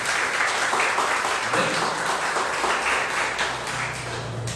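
A church congregation claps in praise during a sermon, a sustained, fairly loud wash of applause with faint voices underneath, fading slightly toward the end.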